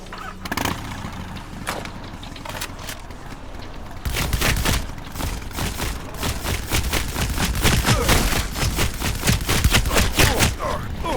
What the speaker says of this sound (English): Oh, it's a little turret, dude.